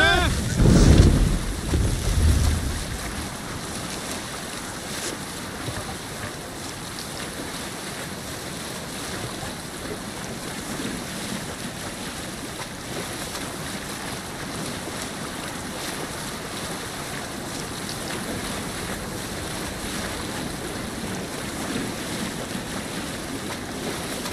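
A Viking longship under sail at sea in Assassin's Creed Valhalla, with steady wind and surging waves rushing without a break. A brief louder thump comes at the start and no voices are heard.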